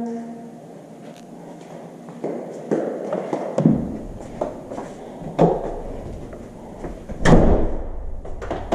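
A garage door is handled during lock rekeying, with a series of knocks, clicks and thuds at irregular intervals, fairly close and loud, over a muffled room background.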